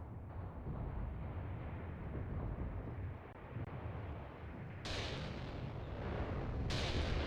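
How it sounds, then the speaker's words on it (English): In the Mius Front war game, artillery shells land as a continuous roaring, rumbling barrage with dense low booms. Two sharper, brighter blasts near the end stand out over the constant heavy din. "Beautiful impacts there."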